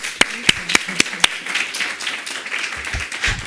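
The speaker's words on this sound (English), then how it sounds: "Please join me with a big applause." An audience at a youth climate adaptation forum applauds, opening with several sharp, evenly spaced claps close by that blend into a steady wash of clapping, with faint voices underneath.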